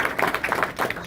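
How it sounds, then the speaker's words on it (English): Town hall audience applauding a local landlord in one section of the room, a dense patter of clapping hands lasting about a second with no speech over it. "Give him a round of applause in that section."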